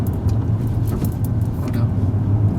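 A car engine drones in second gear from inside the cabin, a steady low rumble with road noise underneath that stays even throughout.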